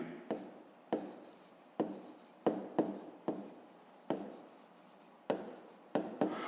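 Pen or chalk scratching out a fifth-grade fraction problem by hand, in short repeated strokes with sharp onsets and brief pauses between them, close and quiet.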